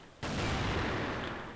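A single sharp gunshot from a shooter video game cracks loud and sudden, followed by a dense rolling tail of noise that lasts over a second.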